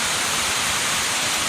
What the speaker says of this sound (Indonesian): Inilah kolam pemandian alam Tepleheng yang diapit oleh dua air terjun kecil